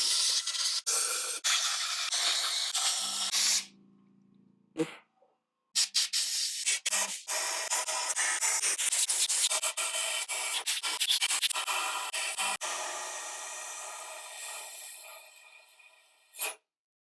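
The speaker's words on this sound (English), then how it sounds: "So the way that I'm going to do this is get some compressed air" Compressed air blowing debris out of an engine block during an A-Series engine assembly, loud hissing blasts in several bursts of varying length, broken by short pauses, close to the nozzle.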